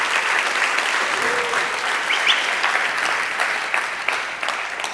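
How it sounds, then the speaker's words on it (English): A conference audience breaks into sustained applause, a dense, steady wash of clapping hands that fills the room for the full stretch without pause. "So I just want to give them a big round of applause."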